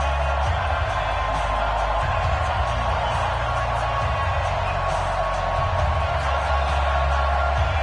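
Steady roar of a packed stadium crowd in an NFL video game before a matchup between the Atlanta Falcons and the New England Patriots, a continuous wash of cheering that holds level throughout.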